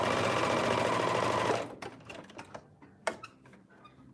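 A serger stitching an armhole seam on a shift dress runs in a fast, steady mechanical whir for about a second and a half, then stops, leaving scattered small clicks and handling taps.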